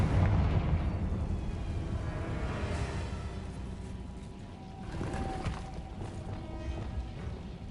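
A Confringo fire spell blasts in Hogwarts Legacy, a loud, rumbling burst of explosive noise that stays heavy and continuous with a second swell partway through.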